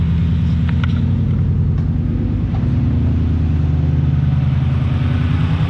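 A Ford Mustang GT's 4.6L V8 runs steadily at idle under the hood, a constant low rumbling drone with no voices.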